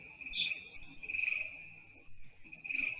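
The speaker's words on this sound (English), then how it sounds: "Yeah, those are crickets." Ambient cricket chirping plays during a tabletop game session, a continuous high, shrill trill that swells and dips softly without stopping, with a few brighter chirps now and then.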